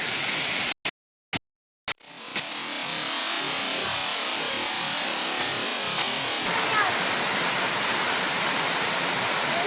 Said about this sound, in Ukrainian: А от і настоящий водопад.